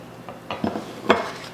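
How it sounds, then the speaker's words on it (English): Shredded carrots and squeezed shredded apple being dropped and scraped into a bowl with coconut oil: soft thuds and a utensil clinking against the bowl, close and brief. "we're going to add our shredded carrots and our shredded apple that I've squeezed most of the moisture out of"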